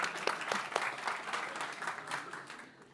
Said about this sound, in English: That was a round of applause for all of you